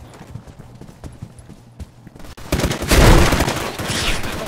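Gunfire from the video game SKILL Special Forces 2: scattered faint clicks and taps, then a louder burst of dense rapid shots and rumble in the second half.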